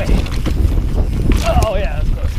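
Wind rushing across the microphone while mountain biking in Moab, Utah, a steady broadband roar with rumbling low end throughout, mixed with voice-like sounds near the end.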